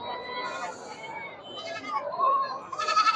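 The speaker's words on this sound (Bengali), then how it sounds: "দেখে চতুর্দিকে খালি শুধু ছাগল আর ছাগল" Goats bleat at a busy livestock market, several close wavering calls overlapping one another over a quiet hum of crowd babble.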